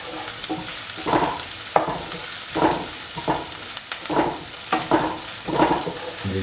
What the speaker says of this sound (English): Saute and mix the onions, the red chili and the garlic with the shallots.